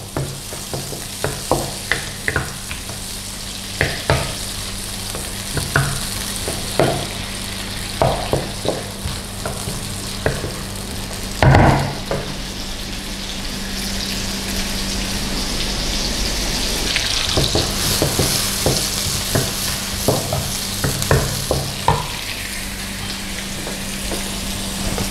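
Sliced onion and garlic sizzle steadily in oil in a pan, with a spatula repeatedly scraping and stirring in close, irregular strokes over a constant frying hiss that swells slightly toward the end.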